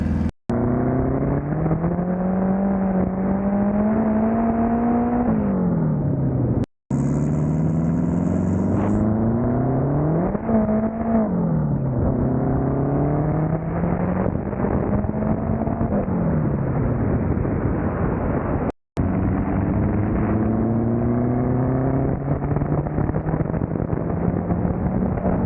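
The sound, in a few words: Honda Civic with turbo K20 engine accelerating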